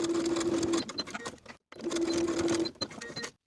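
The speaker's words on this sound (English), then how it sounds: "I'll use my sewing machine to sew that zipper tape to the seam allowance" A domestic sewing machine stitches zipper tape onto a pant seam allowance in two steady whirring runs separated by a brief pause, close and fairly loud with no talk.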